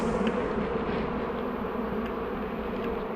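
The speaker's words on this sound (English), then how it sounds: "I've scooped a load of bees in the box, just seeing where they cluster" A swarm of honey bees being scooped into a box during a swarm removal, with old comb nearby, makes a dense, steady buzzing drone close by that holds constant throughout with no talking.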